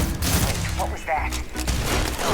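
Rapid bursts of Keelhauler pistol fire in the Starfield video game, dense booming shots packed together with someone talking over the combat noise throughout.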